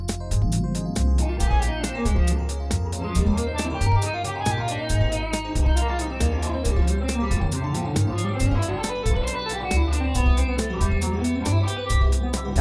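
Close-position diatonic chord voicings play from an app in a steady, busy stream of keyboard-like chords over a low bass line, sounding continuous and full with no talking.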